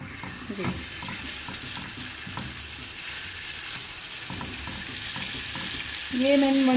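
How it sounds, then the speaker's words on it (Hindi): Steady close sizzling of ginger garlic paste frying in hot oil, with occasional scraping stirs and a brief voice near the end. "हल्का सा इसको हम सौते कर लेते हैं, हल्का सा सॉफ्ट हो जाइए।"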